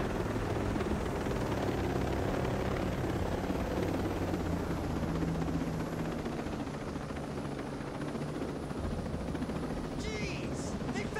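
A helicopter in the video game Ghost Recon Breakpoint drones with a steady, loud rotor rumble throughout, a dense continuous wash that stays level and carries on under the scene.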